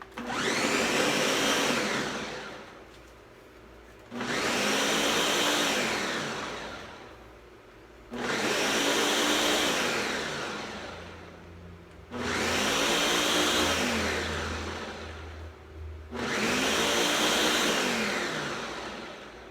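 A blender making a milkshake whirs loudly in five long bursts, each spinning up and grinding for a few seconds before cutting out briefly.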